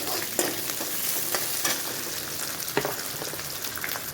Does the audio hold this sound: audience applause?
no